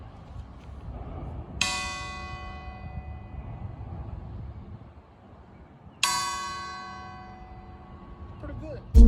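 Two loud, clear strikes of a bell, each ringing out and fading slowly over several seconds, heard near and alone apart from low background rumble.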